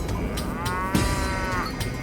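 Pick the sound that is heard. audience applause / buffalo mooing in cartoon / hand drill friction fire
buffalo mooing in cartoon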